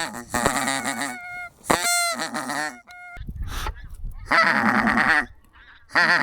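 Wild geese honk in flight over a November goose hunt in Germany, with repeated loud overlapping calls in bursts separated by short gaps.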